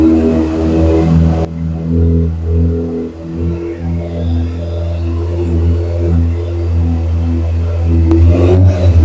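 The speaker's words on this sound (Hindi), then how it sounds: "ये थी आपकी 2026 कावासाकी ZX 6R की आवाज" A 2026 Kawasaki ZX-6R sport motorcycle engine, warming up in cold conditions, revs loudly and steadily close by, its pitch rising and falling through several throttle blips, with no voices.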